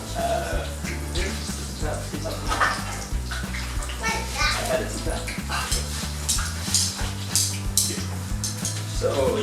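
Battered aubergine slices frying in hot oil, a dense continuous crackling sizzle with bubbling and occasional clinks of utensils, loud and close throughout.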